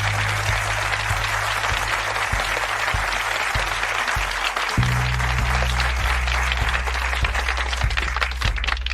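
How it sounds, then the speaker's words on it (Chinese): Hospital staff gathered together clap in a dense, steady round of applause that runs unbroken from start to finish, loud and close, with a low hum underneath. "鼓掌！"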